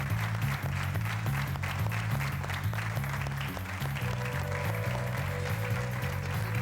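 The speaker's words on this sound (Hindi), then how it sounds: "जोरदार तालियां हमारे नए 4 प्रतियोगियों के लिए" A game show studio audience applauds four new contestants with steady clapping over a loud, rhythmic music bed that runs throughout.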